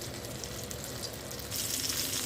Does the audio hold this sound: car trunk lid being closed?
no